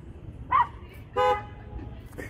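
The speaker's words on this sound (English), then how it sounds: "They just honk at him." A car horn gives two short honks close by, the second a bit longer, over a low background rumble.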